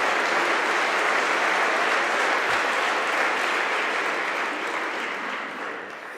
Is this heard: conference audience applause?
yes